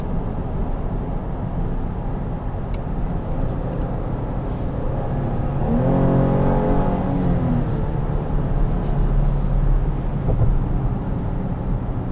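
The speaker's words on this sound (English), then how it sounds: "I just downshifted 2 gears and it sounded like 1." A 2021 GMC Acadia AT4 downshifts two gears, heard from inside the cabin as a steady engine drone that swells into a brief rising rev and then settles back under road noise.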